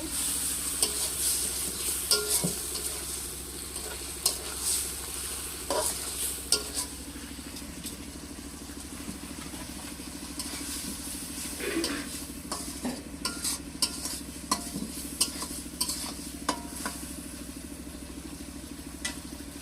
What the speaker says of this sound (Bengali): চিংড়ি মাছ মশলার সাথে দিয়ে ভালোভাবে কষিয়ে নেব।